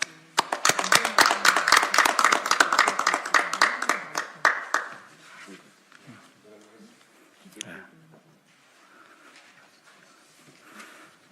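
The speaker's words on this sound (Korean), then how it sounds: "네, 박수로 이렇게 하겠습니다." Audience clapping at a petition handover ceremony, a burst of close, distinct handclaps for about five seconds that dies away into quiet room sounds and a few voices.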